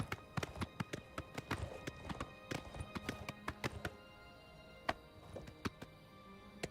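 Horse hooves clip-clopping in Oblivion Remastered, a run of sharp, close taps in an irregular trotting rhythm that thins out and slows toward the end over quiet background ambience.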